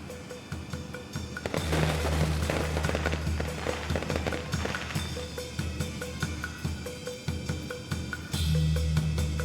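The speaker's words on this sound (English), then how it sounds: "Wow, firecrackers." Firecrackers crackle in the game Nine Sols, a dense run of sharp pops and snaps bursting for several seconds over a low droning background score, fairly loud and without talk.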